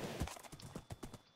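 Horse hooves clip-clop as a player rides through Minecraft, a quick, rhythmic run of soft, close hoofbeats in a quiet stretch.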